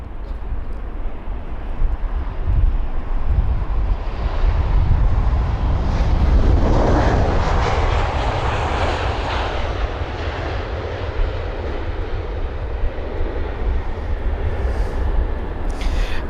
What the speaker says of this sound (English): There it is, the 737-800 with the reg Papa Hotel Bravo X-Ray Zulu